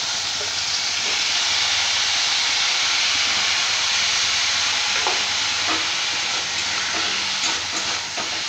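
Snake gourd sizzles steadily in hot oil in a pan, a dense, even frying hiss that stays loud and unbroken throughout, with no talking.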